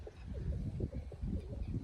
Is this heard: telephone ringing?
no